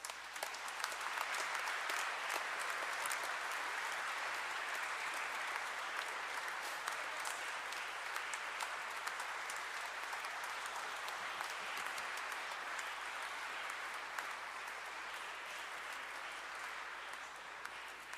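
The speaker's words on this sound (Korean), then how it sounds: "모두 큰 박수 부탁드립니다." A large congregation at a Catholic thanksgiving Mass for a cardinal's elevation claps during a flower presentation, sustained dense applause filling a big hall, steady for the whole stretch and slightly fading at the end, with no speech.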